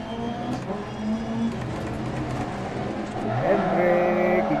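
Rally car engine in the game DiRT Rally 2.0 on a slippery rallycross track, droning and rising in pitch as it accelerates and shifts, under steady talking.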